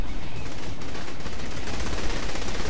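Dense, continuous automatic gunfire from Saints Row: The Third, loud and close, a rapid unbroken stream of shots with no talking over it.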